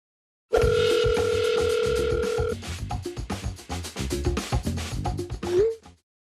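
A telephone ringing sound effect opens a Korean TV news segment: a sustained steady tone gives way to a rapid series of ringing and chiming beeps, loud and clean, ending with a short rising note.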